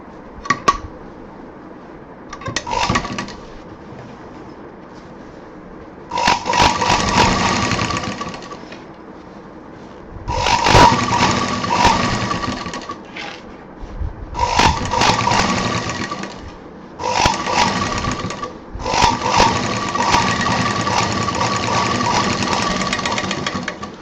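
Sewing machine stitching a handbag, running in repeated bursts of steady mechanical whirring separated by short pauses, loud and close with no talking.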